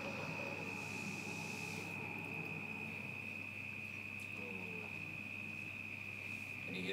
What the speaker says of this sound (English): And you hear the crickets.